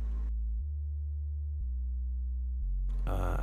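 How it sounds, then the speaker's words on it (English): A deep synth sub bass plays sustained sine-wave notes that step between pitches, with a slightly buzzier low-passed, saturated square-wave layer, bracketed by brief bursts of other sound. "So the sub is made up of a sine wave and a low pass square."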